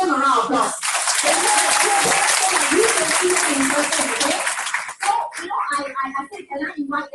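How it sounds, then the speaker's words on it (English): An audience bursts into dense, loud applause lasting about four seconds, then it fades as a voice resumes talking. "give them a round of applause"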